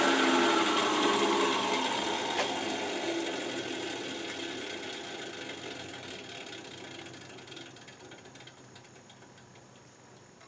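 Table saw cutting wood for a whirligig propeller hub, a loud close whine and rasp at the start that gradually fades as the blade spins down, with no talk.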